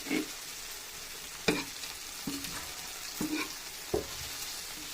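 Fried prawns are tossed into a chilli garlic masala in a pan. A steady frying sizzle sounds up close, broken by a few sharp spoon scrapes and knocks as the mixture is stirred, with no voices.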